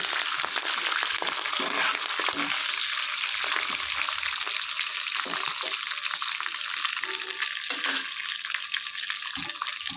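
Spices sizzling in hot oil for a Telugu tempering before carrot and beetroot go in, a loud continuous crackling hiss close by with occasional stirring scrapes.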